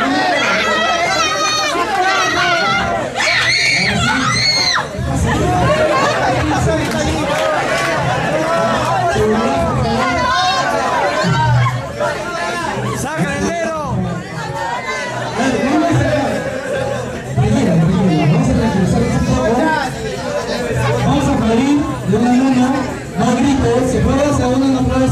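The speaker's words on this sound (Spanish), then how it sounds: "No griten, que no griten." Children and a crowd shouting and chattering at a Halloween costume contest in Arequipa, a dense, loud, continuous babble of excited voices throughout.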